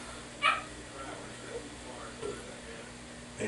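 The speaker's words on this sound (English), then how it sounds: "my dogs are going to start acting up again" Dogs bark and whimper indoors: one sharp bark near the start, then scattered softer yips and whines over a low background hum.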